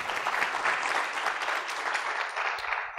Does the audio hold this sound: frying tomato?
no